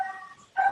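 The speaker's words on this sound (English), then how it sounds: "That's my dog." A dog vocalizes nearby in a quiet room during a talk on primary care for displaced persons, giving two short whimpering yips or barks separated by a brief pause, with no voices over them.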